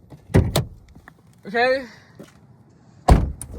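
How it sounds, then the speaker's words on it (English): The door of a 2026 Ford Mustang GT pops open, with sharp latch clicks and a thud, then a short electronic chime, followed later by another loud clunk. A voice speaks briefly in between. "Let's pop the door open real quick."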